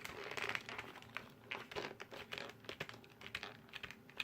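Keys are pressed in a quick, uneven stream of clicks and crunchy rattles from a creaky Corsair Strafe RGB keyboard with Cherry MX Silent switches, close and fairly quiet.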